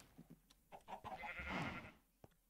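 Sheep in the Minecraft video game bleat in short, faint, wavering calls, with a few soft game clicks and bumps around them.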